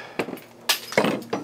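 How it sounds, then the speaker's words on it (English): Metal-on-metal strikes drive the balance shaft out of an Atlas 4/5-cylinder engine using all-thread rod, landing as three or four sharp, ringing clanks at uneven intervals, close and loud. "Just keep smashing it until it comes out."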